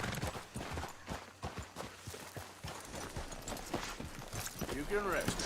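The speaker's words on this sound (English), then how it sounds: "there's Dutch's horse" A horse's hooves clip-clop at a steady walking pace in Red Dead Redemption 2, at moderate volume on a dark night, while someone talks over them.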